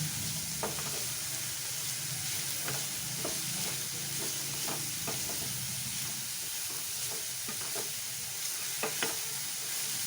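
Cabbage frying in a pan with curry leaves while being stirred, a steady close sizzle broken by repeated scraping strokes of the spoon, no talking.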